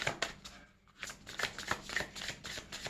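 Tarot cards shuffled by hand in quick, papery riffling bursts, close and fairly soft, with brief pauses between shuffles and no talking.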